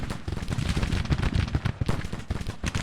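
Rapid, dense volleys of Civil War artillery and gunfire rumble and crackle continuously across a battlefield in the Grand Tactician strategy game, loud and unbroken with no pauses.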